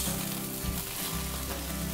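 Boiled chicken noodles stir-fry in a pan at a street-style noodle stall, sizzling loudly and steadily while low clattering tosses and scrapes pulse underneath.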